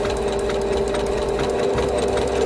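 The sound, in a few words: sewing machine hemming a tunic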